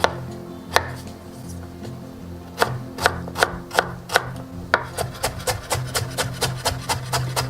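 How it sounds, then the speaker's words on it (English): A knife finely chopping fresh ginger on a board, a few spaced thuds that build into a quick, even run of crisp chops, heard close with no talking. "Fresh ginger, about 2 tablespoons, fine chop."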